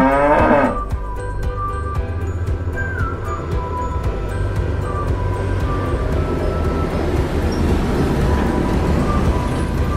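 A cow on a farm gives one loud, drawn-out moo at the start, followed by steady low rumbling background noise that carries on to the end.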